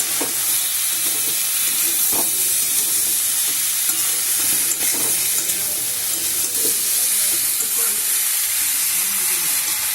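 Cauliflower samosa filling being stirred in a frying pan, a loud continuous sizzle and hiss with scraping of the spoon through the mixture, close and steady throughout, no talking.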